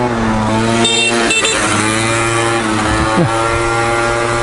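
A small two-stroke engine runs loudly and continuously nearby with a buzzy, droning tone that wavers slightly in pitch.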